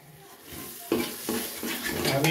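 Pahadi chicken masala frying in a pan, a close sizzle with several scraping stirs of a utensil against the pan that grow louder toward the end.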